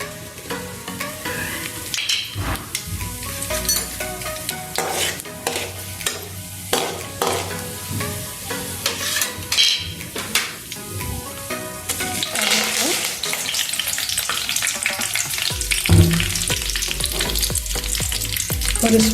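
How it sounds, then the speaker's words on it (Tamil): Mustard seeds, cumin, fenugreek and dried red chillies crackle and sizzle in hot oil, with rapid popping bursts over a steady frying hiss and occasional stirring scrapes. "கடுகு, ஜீரகம், வெந்தயம், காஞ்ச மிளகாய் போட்டு தாளிக்கலாம்."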